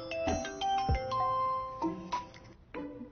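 A phone rings with a tonal electronic melody, a few repeated musical phrases with brief gaps, fairly clear and close.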